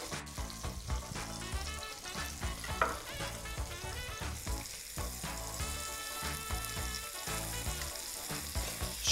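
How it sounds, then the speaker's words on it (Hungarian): Paprika-seasoned catfish fillets frying in a pan, a steady loud sizzle and crackle with no talk. "Sülhetnek tovább, körülbelül még egy 4-5 percre van szüksége a halnak"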